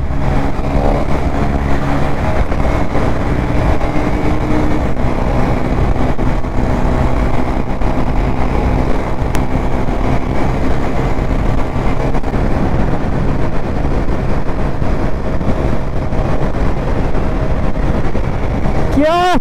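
A Honda CB 125 Hornet motorcycle being ridden, its engine droning steadily and loud throughout with wind buffeting, under occasional talk.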